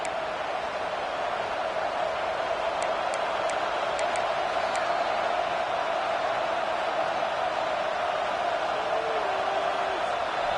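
Steady stadium crowd roar from an NCAA College Football 25 game, a constant loud wash of noise with faint whistle-like tones near the middle and a brief tone late, filling the whole stretch.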